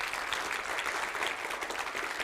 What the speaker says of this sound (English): Please give a warm applause to the first speaker.